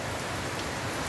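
Steady, dense rain falls nearby on a rural property in the Jamaican countryside, a continuous close hiss with no pauses and no voices.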